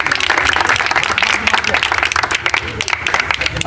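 A crowd claps in bursts at an outdoor village game in Punjab, a dense, loud patter of hands with people talking and shouting over it throughout.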